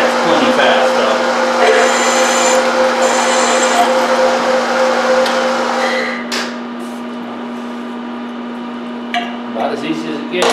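A steady mechanical whine of a drill running continuously, then the motor spins down and stops, followed by faint clicks and handling noises.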